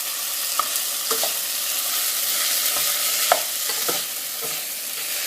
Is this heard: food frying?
yes